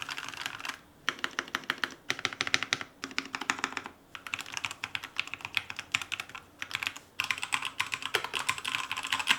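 Rapid typing on a modded Redragon K617 Fizz keyboard, close and crisp, with dense clusters of keystrokes broken by brief pauses, the clicks steady and even throughout with no talking.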